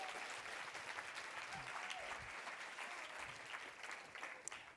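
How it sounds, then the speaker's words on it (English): Sustained applause from a large audience at the 2017 Women Leaders National Convention keynote: dense, steady clapping with a few sharper hand claps standing out, holding the same level throughout with no talking. "Let's give a round of applause to our catalyst."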